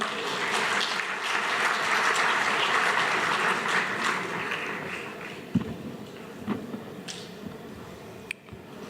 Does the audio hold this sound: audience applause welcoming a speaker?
yes